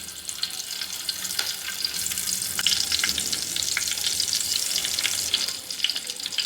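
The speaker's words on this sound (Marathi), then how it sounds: "त्यात परत लसूण टाकते चेचून." Crushed garlic sizzles and crackles steadily in hot oil in a pan for a Konkani-Malvani fish curry. The frying is close and continuous, with scattered sharp pops and a stir or two, and no one speaks.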